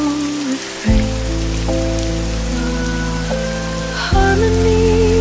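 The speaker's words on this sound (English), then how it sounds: "Raindrops play a gentle refrain." Gentle rain pours down by the sea outside a cozy cafe, an even hiss of drops running beneath prominent sustained musical chords throughout.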